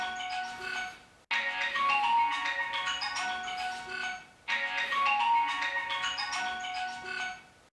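A mobile phone rings with a looping electronic melody that is loud and close, playing in two long bursts separated by a brief pause, with no talk over it.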